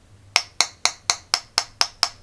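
A fake 18650 lithium battery tapped with a hard object eight times in a steady rhythm, each a sharp, close, hollow knock that sounds empty and decays quickly.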